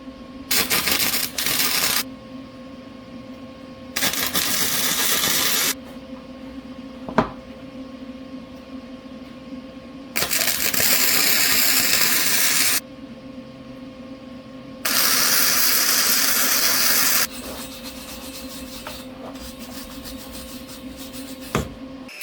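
An arc welder tacks a trailer axle in place, with four separate bursts of harsh crackling buzz, each lasting about two seconds, split by quieter pauses and a faint ongoing hum.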